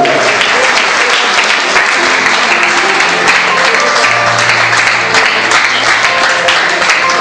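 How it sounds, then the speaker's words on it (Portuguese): A church congregation applauding together, a dense, steady wash of clapping that fills the whole stretch at close range, with faint voices mixed into the crowd. "Podemos tomar o teu assento, aplaudindo e glorificando ao nome santo do Senhor."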